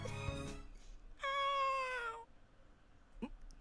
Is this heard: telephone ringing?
no